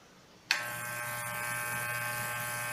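A freshly adjusted and sharpened electric hair clipper switches on with a sharp click and then buzzes steadily, close and bright, with no voices.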